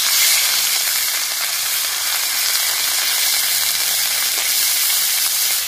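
Onion paste frying in mustard oil in a wok gives a loud, steady, dense sizzle and hiss, close up and continuous throughout, with no talking.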